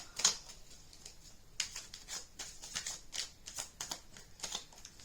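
Tarot cards being shuffled by hand at a reading table, giving quiet, soft riffling and flicking taps in irregular bursts throughout, with no talking.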